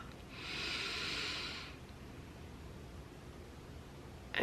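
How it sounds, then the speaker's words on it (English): A slow, deep breath drawn in through the nose during a calm guided breathing exercise, a soft airy hiss that swells for about a second and a half and then fades into quiet room tone. "And inhale."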